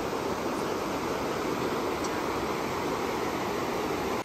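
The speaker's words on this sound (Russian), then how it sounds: "Так красиво вода шумит." River with a very strong current rushing past near a mill, a dense, steady, loud broadband roar of churning water that stays constant throughout, with no talking.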